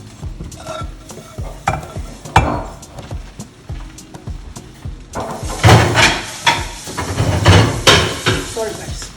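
Cooked snail pieces are stirred into a spicy Nigerian sauce in a pan, giving repeated scraping, clattering strokes over a soft sizzle that grow louder and busier in the second half, with a brief voice.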